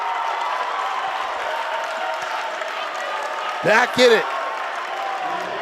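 Crowd at a Division III college basketball Midnight Madness game cheers and applauds in a steady, loud wash of noise, with a brief announcer voice cutting in partway through.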